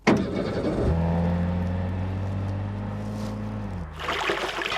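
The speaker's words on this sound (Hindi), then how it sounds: "चलो गाड़ी निकालो।" A car engine turns over and settles into a steady idle hum, then revs as the vehicle pulls away, loud and close, with no talking.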